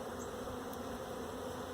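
Honeybees drone in a steady close-up buzz at an open hive that lacks an inner cover, a dense, even hum with no pauses.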